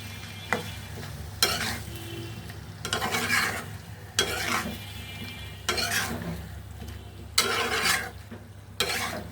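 Curry being sautéed in a pan, with a low steady sizzle broken by about seven loud bursts of scraping and stirring at roughly one-second intervals, close and clattery against the pan.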